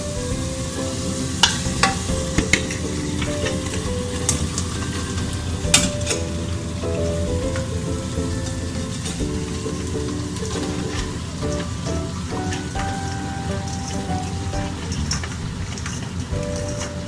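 Chopped bottle gourd and ridge gourd hiss and sizzle steadily in hot masala in a pan, with close, sharp clinks and scrapes of a spoon stirring throughout and no talk.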